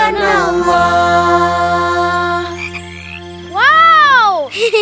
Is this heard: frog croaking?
yes